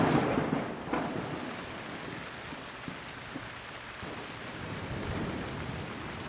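Heavy rain pours steadily through the rainy season in a rural village, with rumbling thunder rolling underneath. The downpour is a dense, constant hiss, and a low boom stands out near the start.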